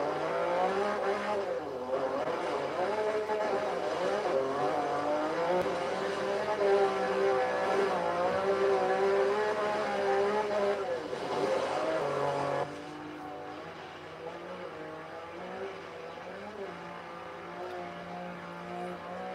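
A car driven off-road in the racing game Forza Horizon 3, its engine droning steadily with shifting pitch and rising revs, loud and continuous, dropping to a lower, quieter hum near the end, with no talking.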